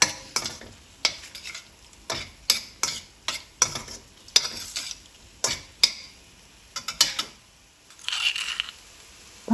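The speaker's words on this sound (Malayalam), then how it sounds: "ഒരു 5-10 മിനിറ്റ് ഇങ്ങനെ ഷാലോ ഫ്രൈ ചെയ്യാം." Spiced mixture being stirred as it shallow fries in a pan for a special rice dish, with repeated scraping strokes over a soft sizzle, close and steady, no talking.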